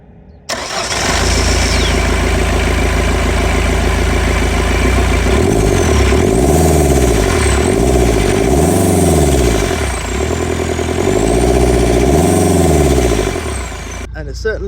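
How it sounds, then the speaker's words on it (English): An old Ford car engine starts and is revved repeatedly, its intake roaring loudly and close in several rising-and-falling sweeps over a steady idle. "It does make some good intake noise."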